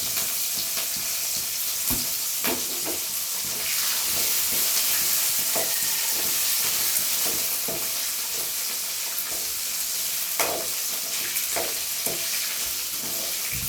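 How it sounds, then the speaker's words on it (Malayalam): Garlic and onion sizzle steadily in a pan while a coconut chammanthi spice powder is prepared, a constant frying hiss with frequent light stirring scrapes throughout. "ഇതിൽ വെളുത്തുള്ളി ഉള്ളി ഇട്ട് കൊടുക്കുക. ഇത് വാടി വരട്ടെ."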